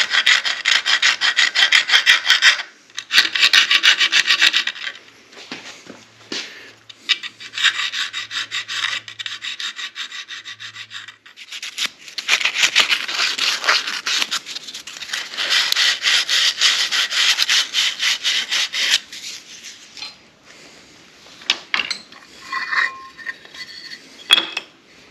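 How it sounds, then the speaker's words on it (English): A small hand file scrapes burrs off the inside and outside edges of a router base modified for carving signs, in bursts of rapid, rasping back-and-forth strokes heard close up, with short pauses between them. "just take a small file and clean these up a little bit"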